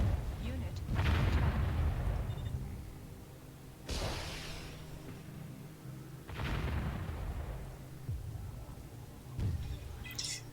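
Gunfire and explosive booms from units in the strategy game Warzone 2100, several heavy bursts spaced a few seconds apart over a continuous low rumble, with a voice talking intermittently.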